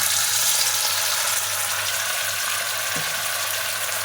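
Hand-pressed, shaped snack pieces frying in hot oil over a low gas flame, giving a steady, dense hiss and sizzle that runs unbroken and fairly loud, with one soft clunk near the end.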